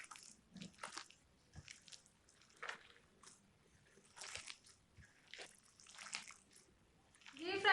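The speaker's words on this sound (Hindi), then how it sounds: "अब इसे मिक्स करना है बस हाथों की मदद से।" Beef shami kabab mixture is mixed by hand, giving quiet, intermittent squelching and squishing bursts separated by short pauses.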